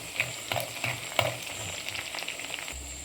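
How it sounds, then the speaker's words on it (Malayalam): Small onions frying in a pan for a mackerel curry, a steady close sizzle broken by several soft stirring scrapes, with no talking. "ചെറിയ ഉള്ളി ഞാൻ ഇട്ട് കൊടുത്തിട്ടുണ്ട്. അത് നന്നായിട്ട് മൂത്ത് വരട്ടെ."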